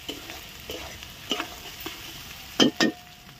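Masala for rohu fish curry being sautéed in a pan, with soft sizzling under a series of spatula scrapes and stirs that end in two louder, close scraping strokes.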